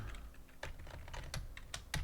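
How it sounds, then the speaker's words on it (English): A computer keyboard typed on at a desk gives quick, irregular clicks and clacks, fairly quiet and close, with no talking. "you can hear me typing"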